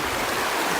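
Little Missouri River water rushing over a knee-deep trail crossing on the Eagle Rock Loop, a steady close broadband wash with no talk.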